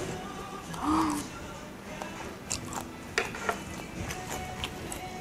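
Crisp crunching bites into kkanpung fried chicken wings during an outdoor Chinese-food meal, several close, sharp crunches in quick succession after a brief vocal sound, over a soft background murmur.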